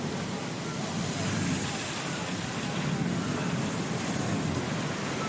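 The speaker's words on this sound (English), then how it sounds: "the sound of the ship creaking back and forth amongst the waves" Broad, steady roar of ocean waves surging against a wooden ship at sea in a storm, continuous and fairly close, with a low rumbling body and no distinct creaks standing out.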